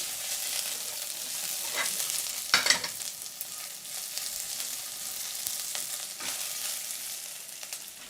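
Shallots fry in a pan, a continuous bright sizzle with stirring scrapes and a few louder crackling bursts, close and steady with no talk.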